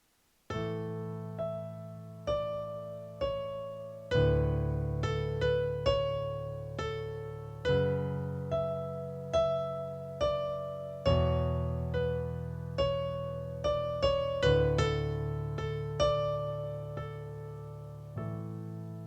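Slow piano playing: a steady series of struck chords, each with a single melody note on top, ringing and decaying one after another.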